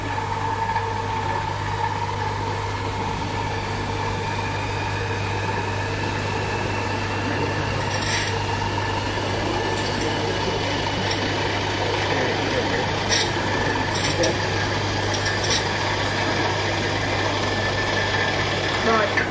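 A gyroscope wheel spun up to about 2,000 rpm during a lecture gives off a steady, sustained whirring hum with faint rising tones, continuous for the whole span, with a few light knocks and handling noises.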